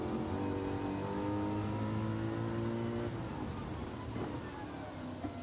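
A race car engine in Gran Turismo 7 drones steadily at moderate volume, with sustained revving tones that shift in pitch as it accelerates, continuous and with no talk.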